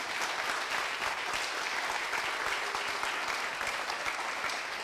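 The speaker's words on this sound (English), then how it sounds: "can we just give a giant round of applause to Harry Buffalo, Ron, and all of the sponso" An audience at a real-estate masterclass in Orlando applauds the sponsors, a steady, full round of clapping with faint crowd murmur that continues evenly for about five seconds.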